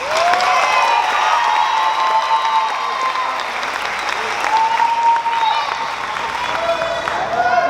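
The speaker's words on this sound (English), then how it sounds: "Please give them a round of applause." A graduation ceremony audience breaks into sustained, loud applause, a thick wash of clapping with some cheering and whistles on top, continuing steadily with voices mixed in.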